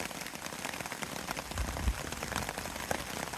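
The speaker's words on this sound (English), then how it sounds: "We definitely need the rain." Steady rain on the Appalachian Trail patters evenly on leaves and gear, a soft, dense hiss with scattered nearby drops and no voices.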